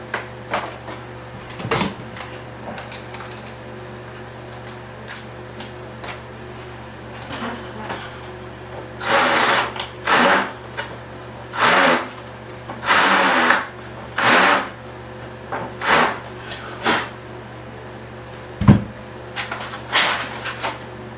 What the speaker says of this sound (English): We're going to have to just drill into these three holes here.